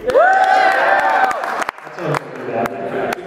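Studio audience at a cricket show cheering and clapping, whoops and voices rising over scattered claps, fairly close and loud, fading into mixed crowd noise and talk.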